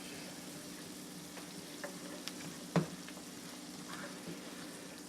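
Onions and celery frying over medium-low heat, a faint, steady sizzle with one soft clink of a utensil partway through, quiet, with no voices.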